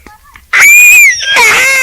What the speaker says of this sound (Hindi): ये चीखें सुनिए